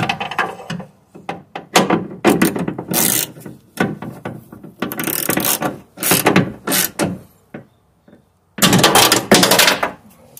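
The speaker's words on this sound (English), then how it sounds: "you're going to tighten up the two bolts that you removed, one there, one on top there" Bolts on a 2006 BMW 550i rear driver-side window regulator being tightened with a ratchet, repeated bursts of rapid close clicking separated by short pauses over about ten seconds.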